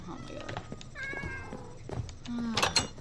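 Several meows from cats in Minecraft sound in succession, some short and some drawn out, with the loudest calls near the end over faint background activity.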